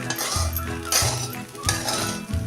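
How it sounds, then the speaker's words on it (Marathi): A spoon scrapes and clinks against a pan while stirring sabudana khichdi with potato, producing repeated metallic knocks and scraping in an irregular rhythm, close and fairly loud. "हे आता साबुदाणा मऊ होईपर्यंत एकसारखं परतत राहूया"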